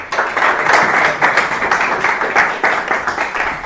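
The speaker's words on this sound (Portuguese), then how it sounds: "uma salva de palmas para a Inês" An audience at a leadership talk gives a loud, sustained round of applause, dense overlapping clapping from many hands throughout, with no speech on top.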